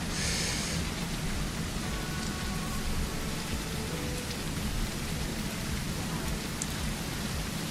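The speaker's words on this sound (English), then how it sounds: "It's raining with no clouds, but that's okay." Steady rain from a ship simulator game, a continuous broadband hiss with low rumbling underneath, even and unbroken throughout with no voices.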